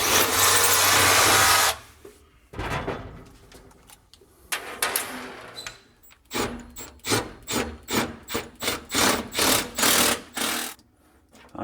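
Hydraulic surge impact driver on setting 2 driving a 5/16 concrete screw with a 3/16 bit: a loud burst at first, then scraping and, later, a rapid run of evenly spaced pulses close by.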